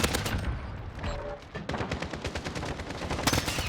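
AN-94 rifle fire in a video game, rapid bursts of loud gunshots nearly continuous across the clip with a brief lull in the middle before firing resumes.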